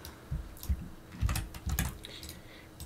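A command is typed on a computer keyboard: a handful of soft, irregular key clicks at close range in a quiet room, with no talking.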